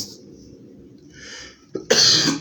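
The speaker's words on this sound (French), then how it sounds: "je vais de temps en temps tousser" A single harsh cough bursts out near the end, close and loud, following a quiet, breathy stretch.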